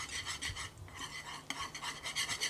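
A mixture is whisked by hand in a bowl, giving a quiet, rhythmic scraping and rasping at a steady fast pace, heard close and alone.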